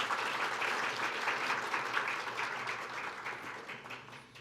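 Audience applause welcomes a society president at the opening ceremony of a Korean water-science symposium, a dense, steady wash of clapping from a seated crowd that stays loud throughout.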